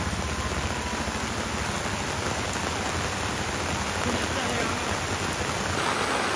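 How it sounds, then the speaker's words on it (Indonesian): Heavy rain falls in a steady, dense hiss throughout, with constant loud wash and no breaks, outdoors on a slippery uphill road. "Ini hujan lebat."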